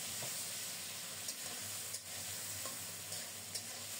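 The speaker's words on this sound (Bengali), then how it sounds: "কিছুটা ভাজা হয়ে আসলে এখন বাটা মশলা দেব, জিরা আর কাঁচামরিচ" Ground cumin and green chili paste frying with cabbage and vegetables in a pan, a soft steady sizzle with a few light knocks of stirring, fairly quiet and close.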